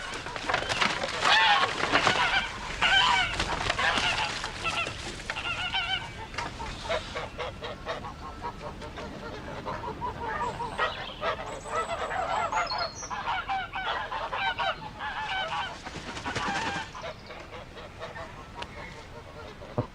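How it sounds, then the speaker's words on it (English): Geese in a yard honk and hiss in a dense, overlapping chorus, loud and close, with sharp calls rising and falling throughout. "I looked at the geese, which was hissing and huddling in the corner of the yard."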